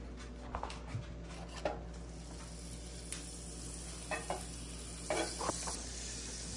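Food frying in butter in a hot pan gives a steady, close sizzle throughout, with occasional scraping and stirring clicks from a utensil over it and no talking.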